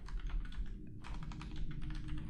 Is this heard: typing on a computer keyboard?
yes